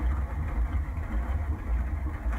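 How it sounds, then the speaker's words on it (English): A ship about 500 metres away passes a hydrophone in the Gulf, its propellers and engines making a loud, low, continuous underwater rumble with a pulsing throb. "This is a recording of a ship coming past one of our hydrophones"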